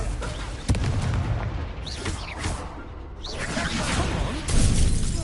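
A Confringo fire spell blasts in the Hogwarts Legacy wizard duel game, heard as a sudden crackling boom amid dense, continuous combat noise with whooshing effects and no talk.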